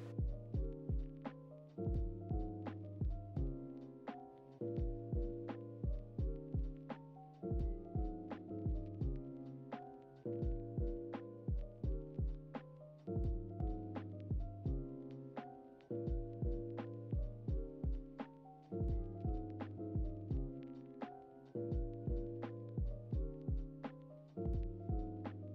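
A sewing machine joins a stretched, shirred dress bodice to its skirt in repeated bursts of rapid stitching, each run a steady mechanical throb that pauses briefly before starting again, close and fairly quiet throughout.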